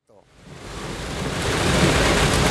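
Heavy rain pours during a journey from Padang to Bukittinggi, a dense steady roar that swells quickly from near silence into a loud, continuous wash of noise.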